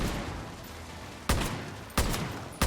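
Gunfire in the video game Far Cry New Dawn: three loud, sharp shots spaced under a second apart, cutting through a steady background wash of game ambience.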